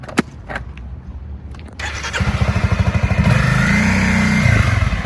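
A motorcycle launches from a stop, the engine idling with a pulsing beat before revving up loudly and pulling away, strong and close throughout.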